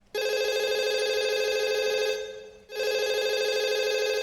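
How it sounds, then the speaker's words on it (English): Telephone ringing in a Breaking Bad episode: a steady, loud electronic ring holds for about two seconds, pauses briefly, then starts again, with no talk over it. "Is that the first time that phone has rang?"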